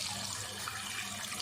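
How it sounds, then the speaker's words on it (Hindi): Water pours steadily into a cooking pot of chicken kabsa rice already holding spices and green chilies, a close, continuous splashing rush with no talk. "अब डाल देंगे पानी।"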